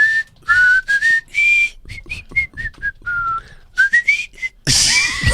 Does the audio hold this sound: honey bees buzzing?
no